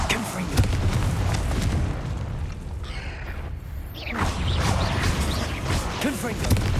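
Fiery Confringo spell blasts in the Hogwarts Legacy video game, dense booming and crashing bursts piling up over a busy game soundscape, loud and continuous with brief whooshes.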